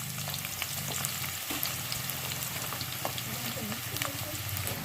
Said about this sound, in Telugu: ఉల్లిపాయలు వేసేసుకొని వీటిని లైట్గా దోరగా వేయించుకుందాం